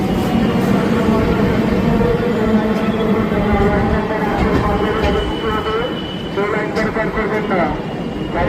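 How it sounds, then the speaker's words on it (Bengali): The 13125 Sairang Express pulls into a platform at Naihati Junction, a loud, steady rumble of wheels and carriages filling the clip, with voices and a brief high squeal toward the end. "13125 সাইরাং এক্সপ্রেসের আজকের প্রথম কমার্শিয়াল জার্নির প্রথম হল্ট এলো নৈহাটি জংশন"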